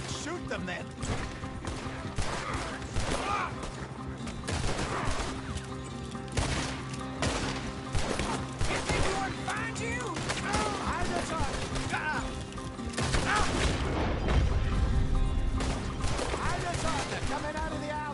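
Gunfire in a Western-style video game, a rapid crackle of repeated shots scattered across a busy battle scene, with voices shouting and talking over the shooting.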